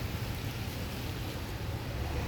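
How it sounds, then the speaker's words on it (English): Steady outdoor rain falls in cold, humid, freezing weather, a continuous broadband hiss with low rumble, fairly quiet and unbroken with no voices. "Right now it's cold, very, very cold, humid, and rain."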